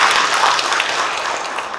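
Steady crowd applause at an academic oration in Indonesia, a broad even wash of clapping that holds at a fairly loud level for the whole moment, with no voices on top.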